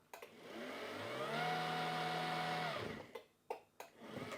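1/6 scale Armortek Tiger 1 model tank reversing, an electric motor whine that rises and holds steady for about a second and a half before stopping, followed by a few sharp clunks, close by.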